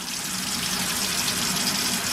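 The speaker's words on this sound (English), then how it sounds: "Let's start off just by rinsing the oranges." Tap water runs steadily from a faucet while oranges are rinsed under it, a continuous close splashing rush with no pause or speech.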